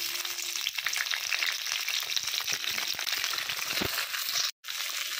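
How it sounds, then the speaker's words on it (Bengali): Flat beans frying in hot oil in a wok make a close, busy sizzle with crackling pops throughout, steady and moderately loud, cut by a brief silent gap near the end. "প্রথমে দিয়ে দিচ্ছি তেলের মধ্যে সিম"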